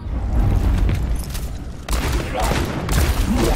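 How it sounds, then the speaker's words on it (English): Heavy booms and rumbling blasts of bombs in the video game mode Junkenstein's Revenge follow one another in a dense, chaotic barrage, loud and close, with sharp crackles layered over a low roar. "Dr. Junkenstein lobbed his bombs at the castle. The explosions are percussive accompaniment"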